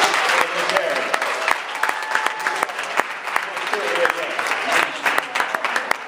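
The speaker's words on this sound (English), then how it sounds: "Let's give a hand of applause for Ms. Woodard, the coach" An audience at a Sunday school awards ceremony applauds the coach, Ms. Woodard, with steady, fairly loud clapping and a few sharper individual claps that carry on throughout, while voices murmur underneath.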